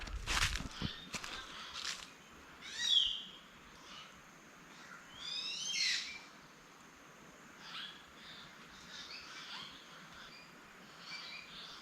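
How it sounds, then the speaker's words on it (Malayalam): Birds calling in the trees at Munnar, a few distinct chirps and trills spaced out over quiet outdoor air, some near and some farther off, with a faint rustle or footstep early on. "ഈ കിളികൾ ചിലക്കുന്ന ശബ്ദം കേട്ടുന്നല്ലേ"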